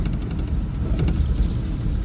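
A car in the outback slows and comes to a stop on the road, its engine rumbling low and steady close by with some road noise underneath.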